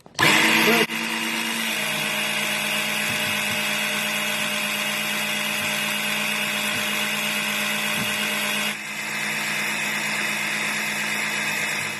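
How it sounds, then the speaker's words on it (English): A parts washer runs, its pump giving a loud, steady whine while an old CV joint from an Audi TT is washed of grease with diesel. The whine starts abruptly and shifts in tone partway through. "now we have the part in the parts washer. We're going to wash out all the old grease using diesel"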